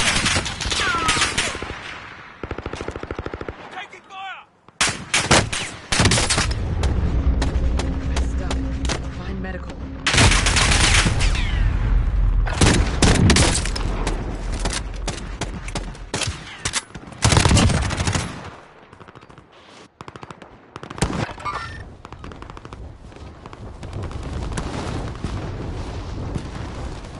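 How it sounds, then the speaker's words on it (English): Rapid video-game gunfire in repeated bursts, loud and dense, with pauses between volleys and people talking over the shooting. "Taking fire."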